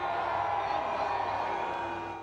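A split crowd at a 2008 Leeds Rhinos versus South Sydney rugby league match in Jacksonville cheers and whoops for the Leeds Rhinos, a sustained wash of voices at moderate distance that fades toward the end.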